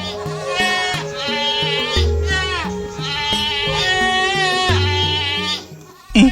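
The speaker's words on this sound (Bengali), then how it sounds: "ছাগল ডাকছে না?" Two goats snatched from a farm bleat loudly and repeatedly in a Bengali horror cartoon, their long wavering cries sounding over a steady bed of background music.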